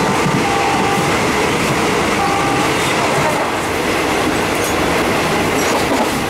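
A train arrives at a station in Thailand with a loud, continuous rumble and rattle of wheels and cars, close by and unbroken throughout.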